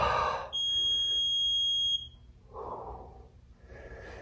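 A single sustained electronic beep tone holds for about a second and a half, set against quiet breathing and faint movement.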